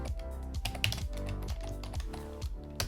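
Steady typing on a computer keyboard while composing a sign-off in a WordPress contact form, with rapid, close, clear key clicks in an uneven rhythm and a few louder keystrokes.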